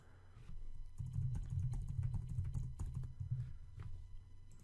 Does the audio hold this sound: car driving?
no